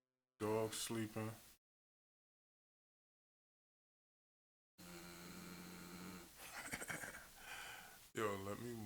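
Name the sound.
dog snoring while sleeping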